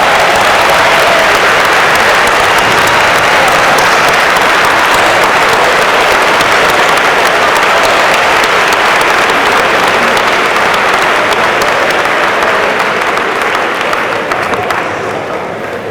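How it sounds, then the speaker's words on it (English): Loud, sustained applause from a large audience giving an ovation at a university homecoming convocation, a dense continuous roar of clapping that holds steady and eases slightly at the end. "Let's give that same ovation to these guys."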